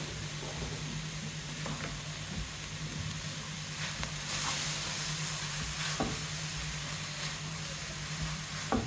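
Carrots for a commercial spring roll and samosa filling fry in a pan with a steady, close sizzle and hiss, with a few soft stirring knocks and no talking.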